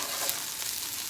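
Garlic, ginger and shrimp sizzle steadily in a hot pan with onions as everything is mixed together, a close, continuous frying hiss with no talk.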